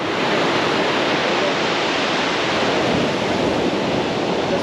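Steady ocean surf at Jones Beach on Long Island in winter, a continuous loud broadband wash of waves mixed with wind noise on the microphone, no voices.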